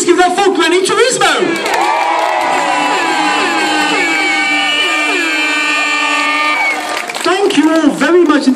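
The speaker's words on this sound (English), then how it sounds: "let's scream and clap and cheer and just all go mad" A festival crowd at Tramlines screams, whoops and cheers loudly for a troupe of grannies dancing with shopping trolleys, a sustained roar of many voices that swells near the start and again at the end.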